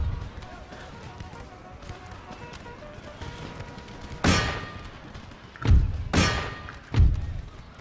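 Musket volley fire in the Empire Total War battle game, heard as a few sharp, booming crackling bursts around the midpoint and near the end over a low battlefield rumble.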